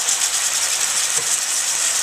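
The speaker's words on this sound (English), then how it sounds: "Kind of hear that sizzling a little bit." Steady, bright sizzling hiss from tomatoes frying in a pan for marinara sauce, close and constant, with no talking.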